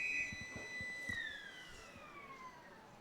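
Long, sustained siren at an Australian football match signalling the start of the second term, heard from a distance and gradually falling in pitch, with faint crowd noise beneath.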